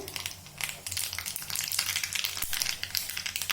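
Mustard seeds and cumin fry in hot oil with a dense, crackling sizzle and scattered popping, loud and close throughout with no talk.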